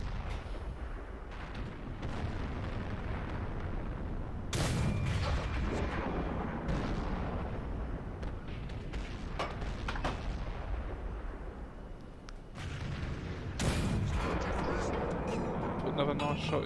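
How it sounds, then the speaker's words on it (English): Heavy M46 Patton tank cannon shots in World of Tanks boom loudly at intervals among rumbling battle noise and other impacts, with someone talking over them. "Put another nice shot into that AMX 1390."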